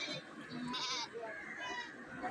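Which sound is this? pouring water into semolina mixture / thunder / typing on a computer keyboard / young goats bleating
young goats bleating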